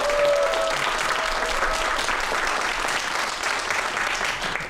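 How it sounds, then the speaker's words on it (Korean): Audience applause welcoming a guest onto a television stage, a dense, steady burst of clapping from a crowd that carries on for several seconds and fades slightly at the end. "큰 박수로 환영해 주세요."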